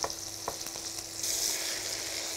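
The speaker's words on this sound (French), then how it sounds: "Je vais bien rôtir dans un beurre qui est devenu un peu noisette pour apporter toute la gourmandise" Veal escalopes frying in butter browned to noisette in a pan, a continuous close sizzle with a few soft stirring knocks, growing louder and brighter partway through.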